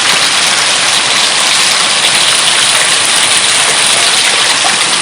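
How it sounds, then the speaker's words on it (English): Heavy rain pours steadily in Kerala, a loud, dense and unbroken hiss of falling water that stays constant throughout with no voices. "So it's raining heavily here."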